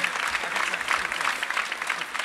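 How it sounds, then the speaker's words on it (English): Audience applause for school students at an awards night, a dense steady patter of many hands clapping throughout, moderately loud and close. "A big round of applause for all the school students who took part."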